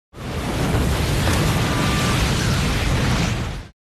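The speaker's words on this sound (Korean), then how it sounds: "갑자기 뜬금없이 자신들이 타고 왔던 인양선이 폭발하면서" A salvage ship explodes in a film scene, a massive continuous roaring blast that starts abruptly, holds at full loudness for over three seconds, then cuts off, with no voices.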